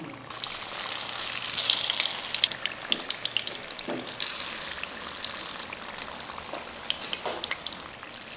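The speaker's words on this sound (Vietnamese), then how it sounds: "Bây giờ thì mình chiên chả giò luôn." Vietnamese spring rolls (chả giò) frying in hot oil in a pan, a steady close sizzle with a louder hissing burst early on, then crackling bubbling that pops now and then.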